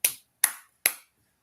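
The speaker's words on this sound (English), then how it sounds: "We clapping it up for Mike, man." Three sharp, evenly spaced claps ring out alone in a quiet room, each a crisp close slap with a quick decay.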